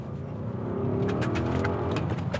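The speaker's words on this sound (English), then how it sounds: "we can go from 50 to 80 kilometers an hour in 3, 2, 1" An Audi SQ7 twin-turbo V8 petrol engine revs and pulls hard accelerating from 50 to 80 km/h, a loud, rising roar with rumbling low tones and clattering noises, no talking.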